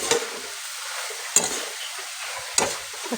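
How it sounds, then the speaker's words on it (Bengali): Leafy greens fry in a pan on a gas stove, giving a continuous close sizzle broken by three sharp stirring scrapes spaced about a second apart. "এখানে গ্যাসে বসেছি শাক ভাজা।"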